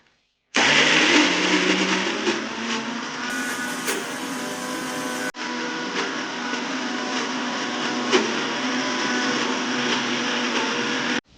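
Mixer grinder grinding moong dal, chana dal and dry red chillies with a little water: a loud, steady motor whir with a churning rattle that runs continuously, pausing for an instant partway through before resuming.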